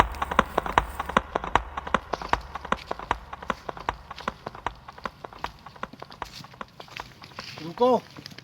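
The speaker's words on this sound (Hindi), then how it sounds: "घोड़ों की आवाज़ सुनाई दे रही है।" Rapid, evenly spaced hoofbeats clatter in a steady galloping rhythm, fairly close, with a brief horse snort or whinny near the end.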